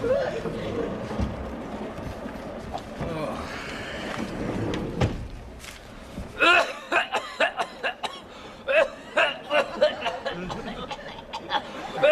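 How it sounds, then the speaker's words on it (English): Repeated coughing fits, close and loud, with a burst of rapid coughs at the end, each cough sharp and separate. "Only started as a joke, then a real cough took over."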